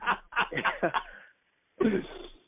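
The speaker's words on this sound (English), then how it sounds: "Listen, I got the cough" A person coughs in a quick run of harsh bursts, pauses briefly, then coughs again, close by.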